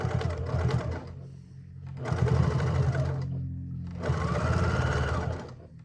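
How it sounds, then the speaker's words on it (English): Sewing machine running in three close, steady bursts as it stitches through thick layers of a pre-made quilt to make a hanger cover, with short pauses between runs and no talking. "So I'll start down here and sew right up to the top there."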